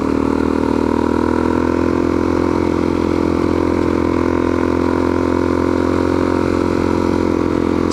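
A Suzuki DRZ400S engine pulls hard uphill through third gear at around 33 mph, giving a steady, loud, continuous drone with no voices over it.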